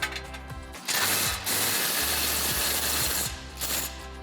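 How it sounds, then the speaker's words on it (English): Ratchet wrench working 16 mm bolts loose on a Jeep Wrangler JL, giving a fast, continuous run of close clicking pawl ticks over a low background hum. "remove the 2 16 millimeter bolts"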